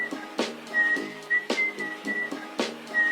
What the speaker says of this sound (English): this whistling from Otis Redding's Sitting on the Dock of the Bay